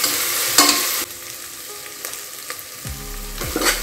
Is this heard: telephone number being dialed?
no